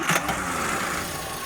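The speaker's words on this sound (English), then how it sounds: "So start it up." A small car engine starts on the button and settles into a steady running drone, loud and close, with no voices.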